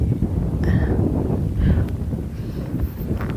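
Wind gusts roar steadily across a cold mountain campsite at Phu Ra Roeng, Wang Nam Khiao, a close, continuous rumbling buffet against the microphone with a few faint rustles and no talking.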